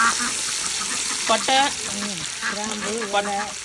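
Village-style biryani masala with tomatoes frying in a large pot outdoors, a loud continuous sizzle with voices talking over it.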